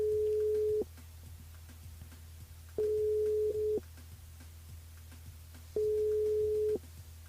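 Telephone ringback tone while a call is placed to a listener: three steady beeps about a second long, each followed by a pause of about two seconds, clear over a low background hum.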